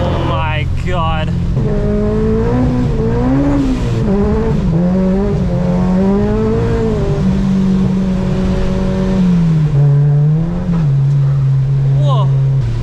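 A 400 hp 2003 Acura RSX Type S drives through hurricane rain and big puddles in California, its loud engine rising and falling in pitch over constant road and water hiss.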